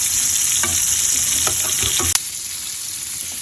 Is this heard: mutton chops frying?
yes